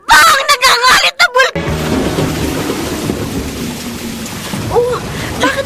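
Heavy rain and a rumbling thunderclap as a radio drama sound effect, a loud low rolling boom over a steady downpour, following brief voices at the start, with speech resuming near the end.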